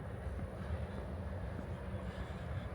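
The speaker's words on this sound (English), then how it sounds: "Oh, monorail." A Disney World monorail gliding past near the Magic Kingdom as a steady, low rumbling whoosh with faint clacking, fairly close and continuous with no talk.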